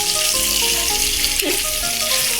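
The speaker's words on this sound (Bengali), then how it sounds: "ডিমগুলো আমি লাল করে নেব।" Eggs sizzle steadily in hot oil with five-spice in a home kitchen pan, a close, continuous frying hiss with a brief stir partway through.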